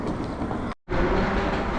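London train heading for the Heathrow Express, a steady rumbling roll with a brief dropout partway, loud and close throughout.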